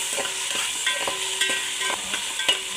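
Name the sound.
frying ginger garlic paste with vegetables for vegetable biryani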